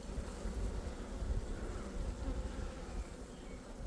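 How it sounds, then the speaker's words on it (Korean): Dense, steady buzzing of an Asian honeybee swarm, loud and close, holding constant throughout with no voices. "동양종 꿀벌이 또 하나 들어온 겁니다"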